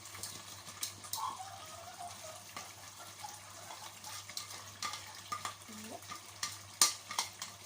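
Sautéed salted tilapia goes into a pot of eggplant stew, with soft stirring, light sizzling and wet sloshing, plus a few clinks and scrapes scattered across the stretch at moderate, steady level with no talk.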